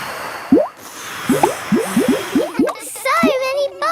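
Cartoon bubble-blowing effect from a children's animated show: a quick series of rising, watery bloops in an uneven rhythm, ending in a wobbly, warbling whistle-like tone, close and fairly loud.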